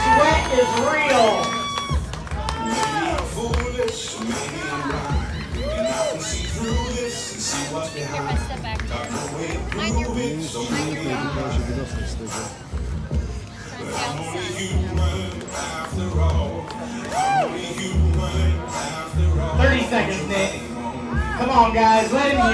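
An audience cheers and calls out to urge on Nick, an escape artist chained in a straitjacket, a dense babble of shouting voices lasting throughout with a presenter's talk mixed in.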